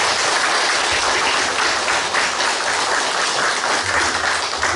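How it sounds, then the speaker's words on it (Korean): A church congregation claps in thanks during a Sunday afternoon service, a dense steady wash of many hands at constant loudness throughout, with no voices over it. "우리 이상엽 형제님과 또 보내준 하나님께 우리 감사의 박수를 드리겠습니다"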